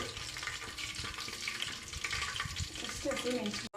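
Biryani spices and cashews frying in oil, a dense crackling sizzle with stirring scrapes throughout, close and fairly loud.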